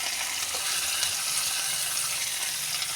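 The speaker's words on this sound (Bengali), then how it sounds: "এটাকে ভেজে নেবো ভালো করে।" Potato, raw banana and other vegetables fry in a pan with garlic, giving a dense, even hiss of sizzling oil that stays loud and constant without pause.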